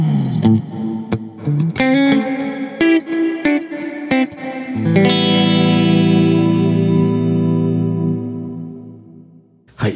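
Electric guitar through a Strymon Cloudburst reverb pedal with the tone set bright: a run of crisp picked notes, then a strummed chord that swells into a long, shimmering reverb tail fading away, with no voices.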